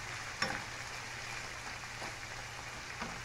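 A habanero chili fries in hot oil with a faint, even crackling hiss and a few soft pops throughout.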